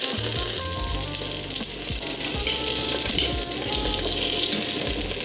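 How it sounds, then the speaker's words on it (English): Steak sears in a hot pan for a poke bowl, giving a dense, steady sizzle with low sputtering pops, close and continuous with no voices. "we got ourselves a nice, beautiful sear on this steak over here"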